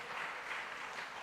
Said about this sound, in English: Can I have a round of applause for this orchestra behind me